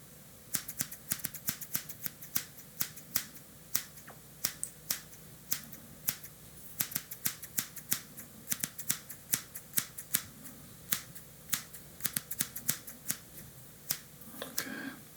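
Scissors snipping hair in an ASMR haircut role play, a long close-up series of crisp, quick snips in a steady, fairly fast rhythm, quiet and intimate with no talking.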